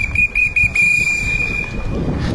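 A whistle blown by someone dressed as a clown cheering on runners at the 2019 Nantes marathon gives one long shrill steady blast over a busy, rumbling outdoor background.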